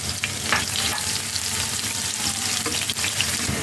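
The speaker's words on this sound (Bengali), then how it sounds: "এখন আমি এখানে পেঁয়াজ কুচি রসুন কুচি নিয়েছি, ভাজার জন্য এটা দিয়ে দিচ্ছি আমি তেলে।" Chopped onion and garlic fry in hot oil, a steady dense sizzle with occasional stirring scrapes, close and continuous throughout.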